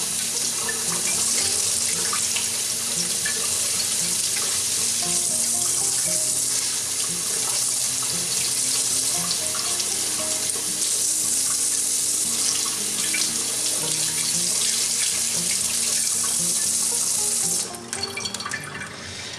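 Tap water pours steadily as Keurig coffee maker parts are rinsed under it, a continuous close hiss and splash that cuts off abruptly near the end.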